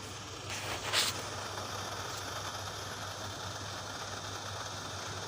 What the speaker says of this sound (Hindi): ये इसका जो रेफ्रिजरेंट है ये उसकी आवाज़ है।